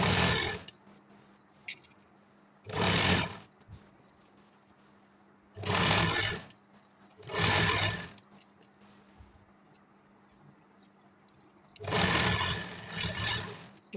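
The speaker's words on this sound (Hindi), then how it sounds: "अब मैं शोल्डर की सिलाई लगा रही हूँ।" A sewing machine stitches the shoulder seam of a kurta, joining shoulder to body in five separate bursts of rapid whirring with quiet pauses between them.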